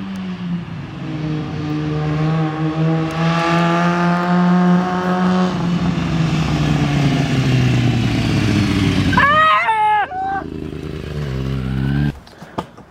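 A Kawasaki Ninja ZX6R 636 sport bike with a Yoshimura pipe riding by: a loud, rising then falling high-revving engine whine as it passes close, shifting gears before trailing off, followed by brief distant engine noise, with no talk.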